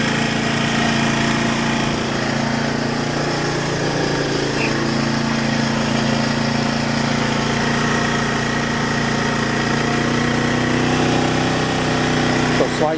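A Sportsman Series 3500 watt inverter generator (GEN3500I) runs with a box fan plugged in, giving a loud, steady engine drone that holds without change from start to end.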